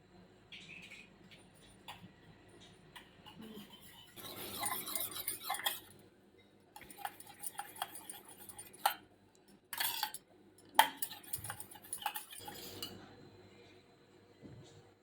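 A utensil clinks against a bowl while eggs are beaten with salt for a plain omelette in a home kitchen, in irregular bursts of quick metallic taps with short pauses between them.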